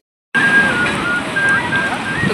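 Steady broadband wash of Bay of Bengal surf at Puri beach, continuous and fairly loud from start to end, with a faint whistle-like tone running through it and no talk.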